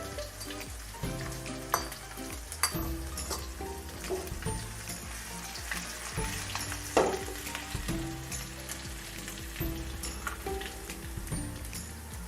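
Garlic paste, about a spoonful, frying in hot oil, a steady dense sizzle with scattered pops and a few utensil scrapes and clinks, close and fairly loud throughout with no talking.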